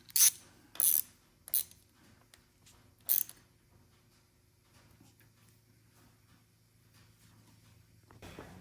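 A ratchet wrench clicks while tightening a new bolt on a Honda CRF450RL motorcycle, heard as a few short sharp metallic bursts close by in a quiet workshop, then a long stretch of faint low hum.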